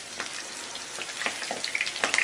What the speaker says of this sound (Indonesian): Kalau sudah panas, kita masukkan tahunya. Dan kita akan goreng sampai nanti warnanya kecoklatan dan sudah berkulit gitu